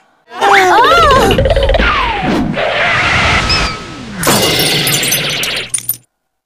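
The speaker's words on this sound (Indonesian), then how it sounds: "Karena kekonyolan Dugal, kacamata Nenek Samir pun jatuh pecah." An elderly woman's eyeglasses fall and break in a cartoon-style scene: springy boing-like effects come first, then a loud burst of shattering glass that rings out before cutting off.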